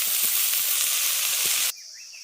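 Mustard seeds with ginger and green chili sizzle loudly and steadily in a hot pan, a dense broadband hiss with faint popping, cutting off abruptly near the end.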